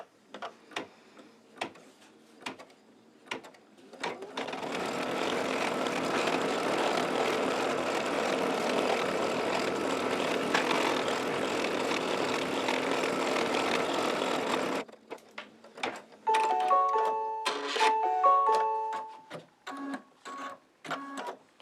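A home embroidery machine stitches a second colour to tack chenille appliqué fabric down for a shamrock pillow, a steady close mechanical whir lasting about ten seconds, set between sparse clicks and short bursts of rhythmic machine tones.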